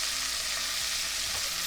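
Coconut milk fries in a pan while cornmeal with beans is being made, giving a loud, steady, close sizzle throughout with faint stirring and no talking.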